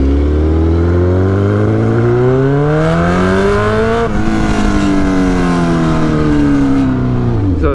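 A 2008 Suzuki GSX-R 1000 motorcycle with a straight-pipe exhaust roars very loudly as it rides, its pitch climbing steadily, dropping at a shift and climbing again, close and continuous with no voices.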